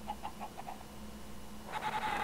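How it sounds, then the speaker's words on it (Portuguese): Chicken clucking in the blocky survival game CraftLandia Hunger Games, a quick series of soft clucks followed by a louder squawk, fairly close against a faint hum. "Opa, tem uns bichos aqui. Opa, galinha, ó."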